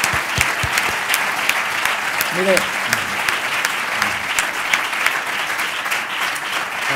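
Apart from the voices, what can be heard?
audience applause for Javier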